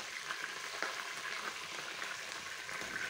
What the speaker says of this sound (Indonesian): Nah ini aku goreng ikan berikutnya ya Bun